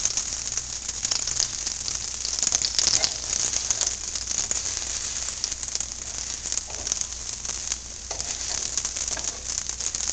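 Santa Fe chicken pieces sizzling in oil in a pan, a steady crackling frying hiss that runs close and fairly loud through the whole stretch, with no talking.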